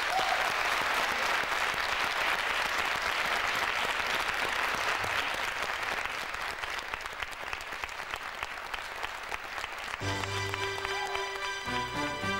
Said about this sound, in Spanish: así que vamos a darle un aplauso enorme.